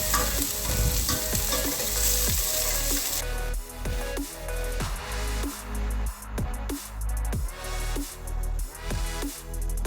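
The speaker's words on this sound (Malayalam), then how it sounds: "അതും കൂടി ഒന്ന് നന്നായി ഇളക്കി കൊടുക്കാം" Onions and slit chilies sauté with a steady sizzle in a pan for a vegetable kurma, broken by repeated loud scraping stirs of a spoon at a regular pace, close up with no voices.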